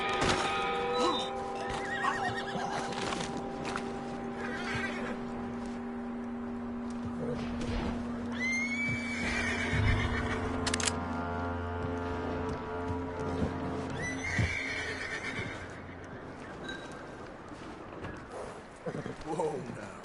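Horse in Red Dead Redemption 2 whinnies loudly, with clip-clopping hooves and stomping around it, while a voice talks calmly over the animal.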